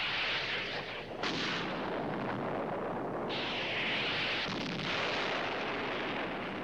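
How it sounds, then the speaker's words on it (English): Continuous roaring blasts and rumbling booms of model explosions from the TV series Space: 1999, loud and dense throughout, with bursts rising and falling, like a battle scene's audio. "And there's our explosions."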